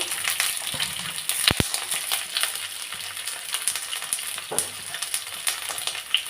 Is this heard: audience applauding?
no